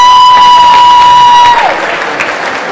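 An audience at a talent competition final applauds the five judges, loud continuous clapping with some cheering, under a steady high electronic tone that cuts out partway, leaving the clapping to carry on a little softer.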